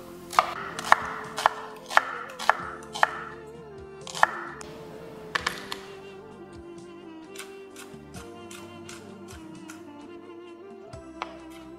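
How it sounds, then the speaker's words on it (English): A knife dices a vegetable into half-moon pieces on a cutting board for braised lamb chops with garbanzo beans: a quick run of crisp, evenly spaced chops up close, then softer scattered taps over a quiet kitchen background. "And you have to just dice it half moon shape."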